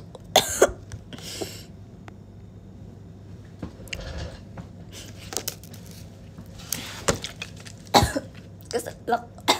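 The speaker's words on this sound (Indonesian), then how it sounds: "Batuk." Several close, sharp coughs come in scattered bursts with some throat clearing, separated by quiet rustling, during a livestream chat.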